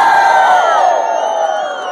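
Party crowd at a DJ night in Bangalore cheering and whooping loudly, a dense wash of shouting voices that gradually eases off.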